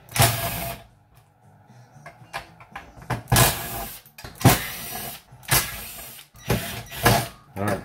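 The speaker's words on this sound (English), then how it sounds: "we'll go ahead and pull out the screws from the speaker terminals" Screws come out of the speaker terminals on a Sony SA-WM500 subwoofer during a repair for intermittent audio, making close bursts of scraping and clicking separated by short quiet gaps.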